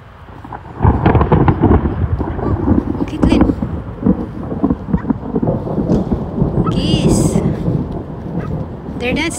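Thunder rolls during a thunderstorm over a golf course, a deep, heavy rumble that swells and lingers for several seconds alongside rain noise and wind buffeting.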